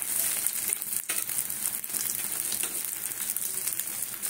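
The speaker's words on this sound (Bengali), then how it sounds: "আমি এইগুলোকে সুন্দর করে ভাজি" Chicken pieces frying in a hot pan give a steady, dense sizzle with crackling spatter, continuous and close throughout, no voices over it.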